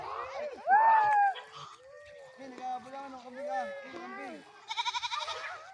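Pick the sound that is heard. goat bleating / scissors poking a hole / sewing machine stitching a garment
goat bleating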